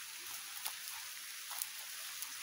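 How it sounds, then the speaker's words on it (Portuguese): Light, cold rain falls outdoors in a steady, soft hiss of drizzle, with a few slightly louder drops or patters standing out briefly against the even wash. "Ai, que chuvinha gelada!"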